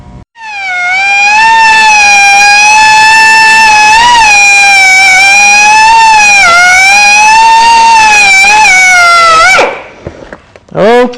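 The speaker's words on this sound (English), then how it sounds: "we'll start carving this shape out with the little drum sander" A small drum sander carves a chopper motorcycle frame part clamped in a vise, letting out a loud, sustained high-pitched whine with a wavering pitch before it cuts off near the end.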